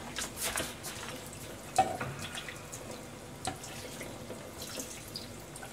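Hot tap water runs steadily into a kitchen sink while konjac is rinsed, a continuous close wash with a few knocks and splashes and no talk.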